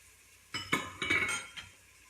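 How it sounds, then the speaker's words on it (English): A utensil stirring diced organic garlic in a cooking pot gives a few sharp clinks and scrapes close by, clustered in the middle with a quiet lead-in and tail. "Stir that a little bit around."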